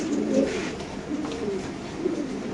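Dragon breed pigeon, an exhibition bird being held at a market, cooing in low repeated throaty pulses close by, with no talk over it.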